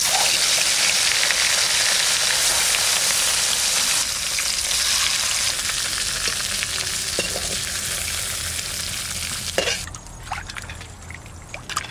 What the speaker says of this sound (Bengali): করে মাছগুলো আমি সব ভেজে নেবো